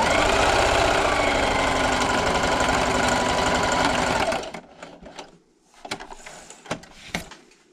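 A sewing machine runs steadily and loudly for about four seconds while stitching fabric strips for a table runner, then stops, leaving a few light clicks and handling sounds.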